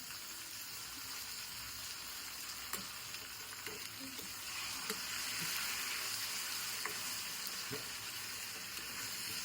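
Onions fry in a pan for egg biryani and begin to scorch. A soft, steady sizzle with a few light stirring clicks plays quietly with no talk.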